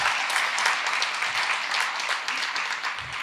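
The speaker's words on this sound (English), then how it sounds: "that in itself deserves a round of applause" An audience at an Indigenous literary event gives steady, dense applause for an author honoured for publishing four books in a year. The even clapping continues without a break for several seconds.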